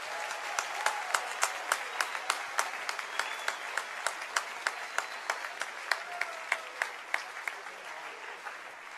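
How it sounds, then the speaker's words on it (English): Applause from a school audience at a house music competition, a steady patter of many clapping hands with sharper individual claps close by, lasting about nine seconds at a moderate level. "That was a really healthy round of applause"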